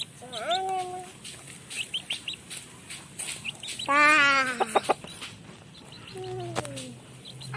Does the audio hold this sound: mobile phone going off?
no